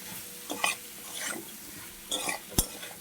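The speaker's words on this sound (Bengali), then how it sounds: "দেখুন, একবারে দিয়ে দিচ্ছি একসঙ্গে শুটকি, ডাঁটা আর আলু। তাই ভালো করে ভেজে নিচ্ছি।" Dried chandana fish, stalks and potatoes frying together in a pan, with faint sizzling under scattered spatula scrapes and clinks against the pan, one sharper knock near the end.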